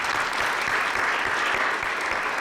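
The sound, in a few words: audience applause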